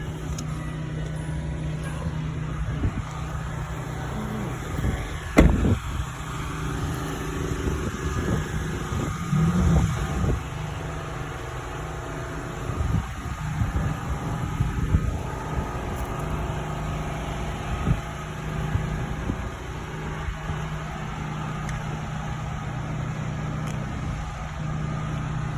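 A 2022 Mazda CX-3 AWD engine runs steadily after startup, a low continuous hum with faint fluctuations at close range and no talking.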